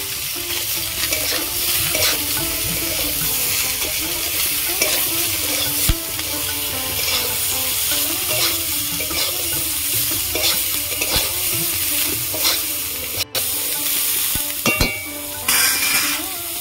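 Carrots and capsicum stir-fried in a kadai for veg fried rice: continuous close sizzling with repeated scraping stir strokes and occasional metallic clinks of a utensil against the pan, with no talking.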